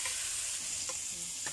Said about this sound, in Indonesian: kita goreng kayak gini aja